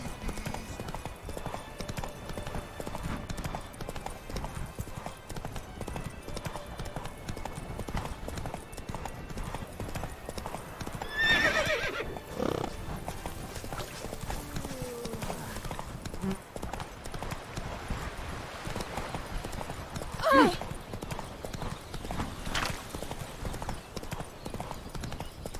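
Hooves of Roach, the horse in The Witcher 3, clip-clop in a steady galloping rhythm throughout, with game music and ambience underneath and a brief louder burst near the end.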